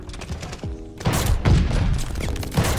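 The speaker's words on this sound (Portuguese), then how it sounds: "Mano, os tiros lindos demais, velho." Rapid 12-gauge semi-automatic shotgun blasts in a first-person shooter video game, a dense volley of loud, booming shots fired in quick succession from about one second on, preceded by a brief quieter stretch.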